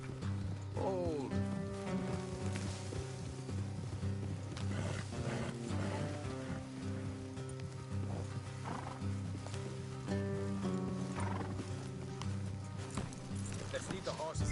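In a PS4 video game, horses snort and whinny while hooves clip-clop steadily beneath a layer of background music and game ambience, the animal sounds coming in and out at moderate volume.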